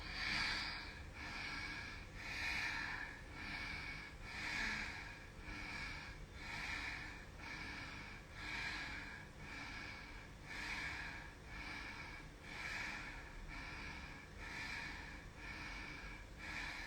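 Forceful Bhastrika bellows breathing during a hatha yoga session, rhythmic sharp nasal breaths in rapid, evenly spaced pulses, about one every second, close and steady throughout.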